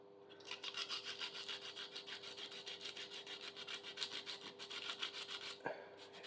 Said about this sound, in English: We're going to try some sandpaper first